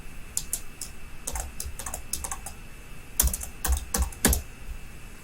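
Keyboard shortcuts pressed on a computer keyboard, sharp clicks in small bursts with a cluster of louder, heavier keystrokes toward the end over a faint steady hum.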